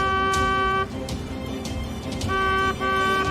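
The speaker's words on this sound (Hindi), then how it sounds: "हॉर्न बजाओ, हॉर्न।" A vehicle horn blares twice, a long toot, a short gap, then another, loud and close over a rough engine-like rumble.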